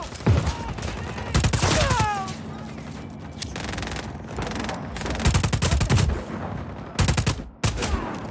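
Bursts of automatic gunfire from the video game Just Cause 4, rapid rattling volleys broken by short pauses, with a whistling tone and a few booms between the strafes.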